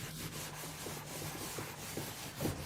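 A small abrasive sponge rubs gently over screws on old furniture being restyled, giving a soft, steady, continuous scrubbing hiss at close range with no voices.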